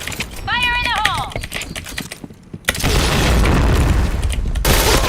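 A grenade explodes in the shooter game Point Blank. A short shouted voice call comes first, then a brief lull, then a loud, sustained burst of blast and gunfire noise fills the rest.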